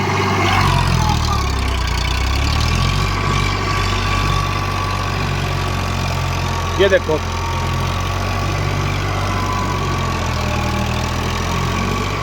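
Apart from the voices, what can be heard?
Eicher 551 tractor engine running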